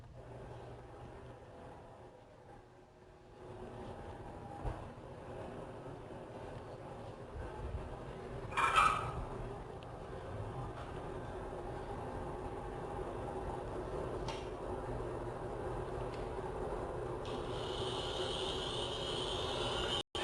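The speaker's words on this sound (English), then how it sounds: "what exactly is going on inside of a hard drive when it is actually running in your computer" Hard drive running in a computer with its lid off: a steady low whir and hiss throughout, with a sharp mechanical click-burst near the middle and a few fainter ticks, ending in a brighter high whine.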